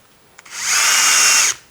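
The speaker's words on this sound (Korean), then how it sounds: "자, 한마 드릴입니다. 자, 이렇게 뚫고" A hammer drill bores a hole into a wall to take a wall plug, a single loud, close, steady whine that ramps up and holds for about a second before cutting off, alone.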